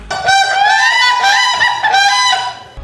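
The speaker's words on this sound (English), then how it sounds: "This is the whooping crane," A whooping crane gives a loud, bugling call with rich harmonics, rising and repeated in a few long honking bursts, close and clear with no talk.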